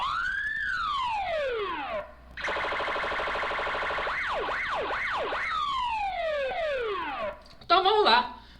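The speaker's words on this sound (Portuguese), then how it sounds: "Roda a sirene." A siren sound effect blares loudly and alone: rising and falling wails, then a rapid yelping warble, then more descending sweeps, ending in a short burst of chirps.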